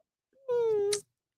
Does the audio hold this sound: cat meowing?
yes